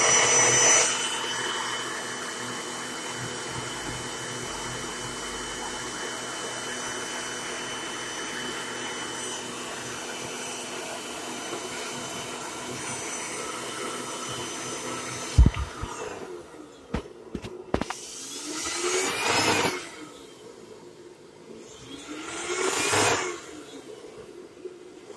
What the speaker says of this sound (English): I'm going to turn it on again and vacuum some more.